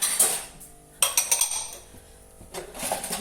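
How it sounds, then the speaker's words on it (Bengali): Metal plates, pots and utensils clatter and clink in a home kitchen, several sharp bursts of banging separated by short quieter gaps, close and fairly loud. "মাসি থালা বাসনের যুদ্ধ শুরু করেছে"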